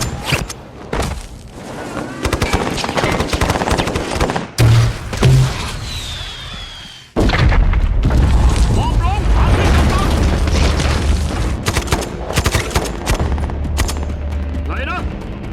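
A film shootout breaks out, with bursts of rapid gunfire and heavy booms over a rumbling low din while voices shout in between.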